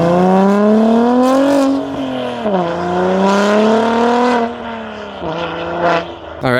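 BMW G80 M3 with an HFD valvetronic midpipe exhaust, loud and close, a deep rumbling idle whose pitch dips and rises several times as the engine is lightly blipped.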